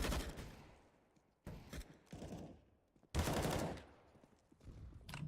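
An MP9 trades fire with several Desert Eagles on the Mirage map in a CS:GO match: sharp separate gunshot bursts with short quiet gaps between them, fairly close and loud.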